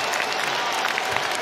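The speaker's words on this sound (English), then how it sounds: "hand round of applause, definitely. And a standing ovation." Dense crowd applause and cheering in a basketball arena during a Clippers game against the Pacers, a continuous loud wash of clapping as the crowd gives a player a standing ovation.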